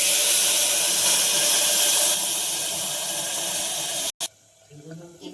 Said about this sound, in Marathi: त्या प्रमाणात मी पाणी घालते.